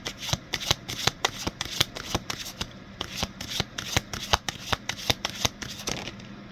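Oracle cards for a tarot reading being shuffled and drawn, a steady run of crisp riffling snaps and flicks repeating about every quarter second, close and fairly quiet, with no talking.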